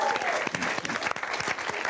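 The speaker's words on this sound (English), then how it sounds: "Give our teams a round of applause." A studio audience claps for the competing teams, a dense, steady wash of applause filling the whole brief moment at close, even volume.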